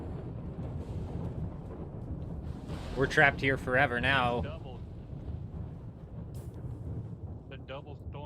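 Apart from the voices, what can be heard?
storm in Dune Awakening video game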